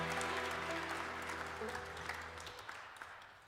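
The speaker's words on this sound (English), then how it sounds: "Give yourselves a huge round of applause" Applause from a Chanukah concert audience, steady at first under lingering musical tones, then thinning into scattered claps as it fades over a few seconds.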